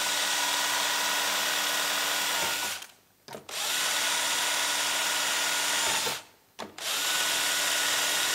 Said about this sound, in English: Putting all these two outer ones into place, then I'll drill the inners.